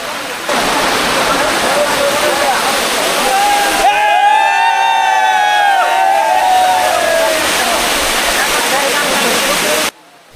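Ruposhi waterfall in Mirsarai, Chattogram, roars loud and steady in the hills while a crowd's commotion and voices rise over the rushing water, with a brief shrill chorus of shouts in the middle.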